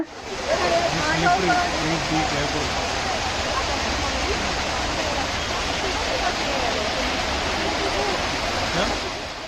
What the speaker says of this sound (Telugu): నీళ్లు జలపాతాలు సౌండ్ నిజంగా చాలా బాగుంటదండి.